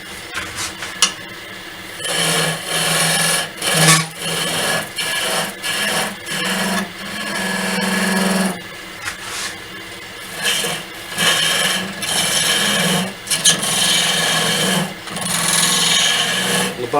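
A gouge cuts dense laburnum wood on a lathe while turning an off-centre goblet, giving a steady scraping, rasping hiss in repeated passes of a few seconds each, separated by short pauses, close and fairly loud with no talking.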